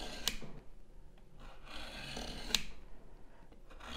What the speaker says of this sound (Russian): простым канцелярским ножом мы вот так царапаем нашу доску